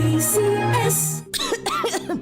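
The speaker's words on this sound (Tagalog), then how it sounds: "Ubo, plemang nakabara, hirap sa paghinga." Several sharp coughs with some throat clearing, close and fairly loud, then a short rising vocal sound at the end.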